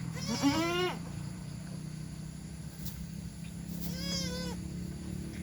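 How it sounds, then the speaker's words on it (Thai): A mother goat and her two newborn female kids on a farm bleat in two clear wavering cries, one at the start and another near the end, with quiet farm background in between and no voices. "เป็น แพะนะคะตัวเมียนะคะ"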